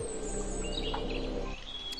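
Small birds chirp and tweet at a busy winter bird table in the Highlands at Glenfinnan, where woodpeckers feed on peanuts; bright, short calls sound over a steady outdoor background without talk.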